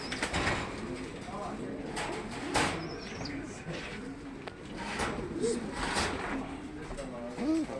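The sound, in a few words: pigeons cooing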